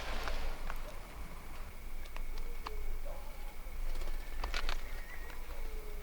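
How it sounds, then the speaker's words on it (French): An owl passing overhead at night above a cornfield gives faint, scattered calls against a quiet, hissy rural background, distant and brief. "Bon, là il y a un oiseau de nuit qui vient de passer au-dessus."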